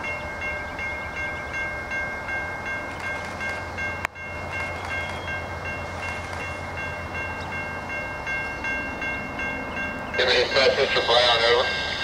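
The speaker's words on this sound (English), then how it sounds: "Norfolk Southern NS train number" A Norfolk Southern freight train, NS322, rolls past at Bridge in Atlanta, Georgia, with a steady rumble of railcars and faint tonal whines, then a louder burst of rattling clatter near the end.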